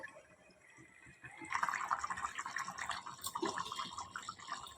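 Eggplant and potato curry with mango simmers in water in a pan on a medium flame, giving a steady soft bubbling and sizzling that swells after a quiet start, close up with no talking.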